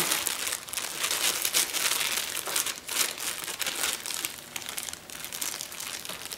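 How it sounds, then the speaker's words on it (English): Plastic is peeled off the top of a ganache-frosted cake, producing close, crinkly rustling in irregular bursts that continue throughout. "I want to peel back the plastic off of the top of the cake"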